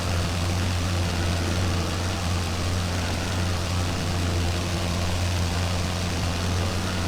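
A WWI fighter plane's engine in the flight game Wings Over Flanders Fields drones steadily, loud and close, with an even, unbroken rumble and no voices.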